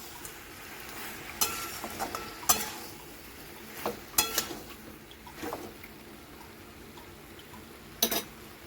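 Fried shrimp stir-fried with Malabar spinach in a wok, a steady soft sizzle beneath scattered sharp metallic scrapes and clanks of a spatula against the pan, close and moderately loud.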